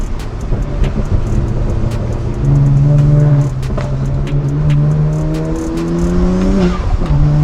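A BMW E30 with a swapped twin-turbo N54 engine and no catalytic converter accelerates loudly and close by, its engine note climbing through several pulls with gear changes and sharp pops between.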